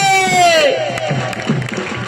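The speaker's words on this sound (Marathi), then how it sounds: "टाळ्या पाहिजे" A crowd at an Ahilyanagar wrestling dangal claps and cheers, opening with a loud falling whistle-like tone, then a dense, continuous wash of applause and shouting from many people.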